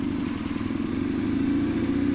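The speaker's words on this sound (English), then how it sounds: "the guy on the motorcycle driving right by you" Steady engine drone of a motorcycle driving past close by on a road, a constant low rumble with slight rise in pitch, no voices.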